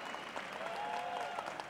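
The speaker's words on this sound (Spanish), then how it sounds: "Un aplauso para ella, por favor." Audience applause after a speaker introduces Liliana Angulo Cortés, curator of the Museo Afro de Colombia project, at an art conversation event; a steady wash of clapping at moderate distance, fairly soft, with a faint sustained tone running beneath.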